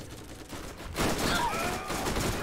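Rapid SMG gunfire in the video game Borderlands, a dense burst of shots with a louder second half over game effects, moderately loud and continuous, no voices.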